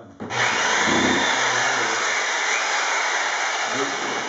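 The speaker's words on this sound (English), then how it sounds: "Extend the reciprocating saw. You put it on the side of it, or better yet, swing it out." A reciprocating saw pressed against a countertop sample form, used as a vibrating device, runs as a steady loud buzzing drone for several seconds after a brief start, with a faint low rumble underneath.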